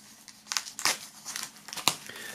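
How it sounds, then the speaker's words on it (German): Plastic shrink wrap being peeled and crinkled off a vinyl record package, close and alone, with several sharp crackling bursts and tearing rustles at uneven intervals. "wenn wir die Folie entfernen können"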